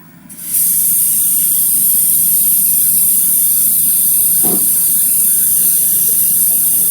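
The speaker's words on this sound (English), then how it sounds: "I'll fill the second kettle with cold water." Cold tap water runs steadily into a second electric kettle in a kitchen, a loud, continuous hissing stream that starts abruptly and holds for several seconds with no voices.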